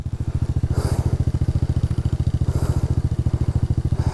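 A Polaris ATV engine labours uphill on a steep dirt track with a fast, steady thudding putter. It is loud and close throughout, with a couple of brief hissy bursts over the rhythmic chug.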